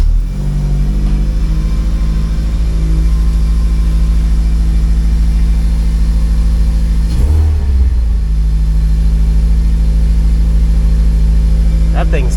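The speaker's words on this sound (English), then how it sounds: "We're going to start it up." A Honda Civic EP3's engine, just fitted with a larger intake manifold, runs loudly at a steady idle. Its deep rumble holds for most of the clip and rises briefly in a rev near the middle.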